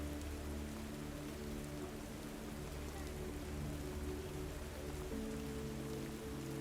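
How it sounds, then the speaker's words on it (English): Steady rain falls continuously around an approach to the Library of Alexandria, a soft broadband wash layered over a low droning hum that runs throughout. "as the rain dampens the noise of the day"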